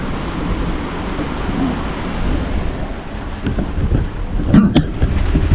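Strong, steady typhoon wind roars and buffets the microphone, with a constant rushing noise and occasional gusts; no voices are heard.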